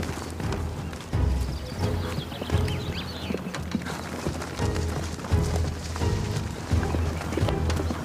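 Horse hooves clip-clopping on ground during a traditional Spanish horsemanship display, a busy run of close, irregular thuds and knocks over outdoor background noise.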